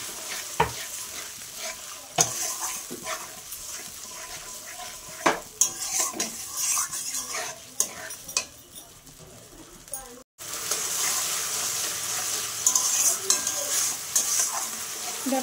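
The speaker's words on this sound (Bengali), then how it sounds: "আমি ভালো করে কষিয়ে নেব মশলাটা" Spice masala stirred and fried in a pan for an egg curry, with steady sizzling under repeated scraping and clinks of a spoon against the pan, close and fairly loud; a brief break near the end before the sizzle resumes.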